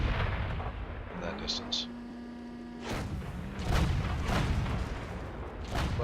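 KV-5 heavy tank cannon fire in World of Tanks, with several booming shots and blasts of moderate loudness over engine rumble, starting from about the middle, and someone speaking briefly over them.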